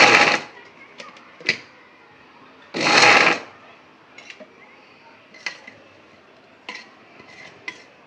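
A kitchen mixer grinder pulses green chillies with salt into coarse thecha, giving two short loud whirring bursts separated by quieter clatter and scattered clicks of the jar and lid.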